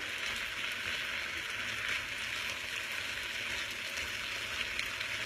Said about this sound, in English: Stir that around to make sure your shrimp are getting that ginger and soy flavor